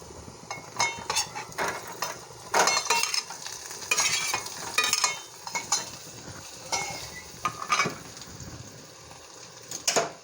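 Potatoes are added to a pan and stirred, with repeated scraping and clinking of a spatula against the pan over a soft frying sizzle, close and irregular in rhythm.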